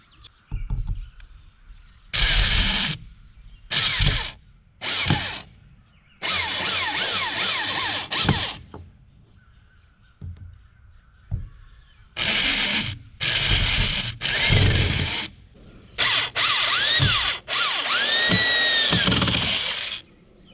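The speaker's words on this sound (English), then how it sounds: "See if I could drill this without it splitting." A power drill runs in repeated short bursts into cut pieces of 2x4 lumber outdoors, close by, with pitch changes as it bites, separated by quiet gaps.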